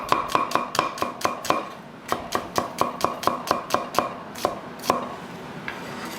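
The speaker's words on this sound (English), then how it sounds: "chop the onion up" Knife chopping an onion on a board at home, a quick run of crisp, evenly spaced close-up chops that pauses briefly and resumes before tapering to a few final strokes.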